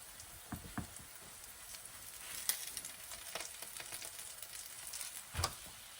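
A chicken and cheese pupusa fries in oil in a pan, making a steady crackling sizzle with scattered sharp pops, loud and close, with no voices.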